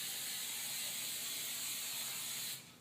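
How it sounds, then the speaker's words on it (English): Non-stick cooking spray hisses in one continuous burst into a muffin tin, close and loud, then cuts off near the end. "be sure to spray them with some non-stick spray"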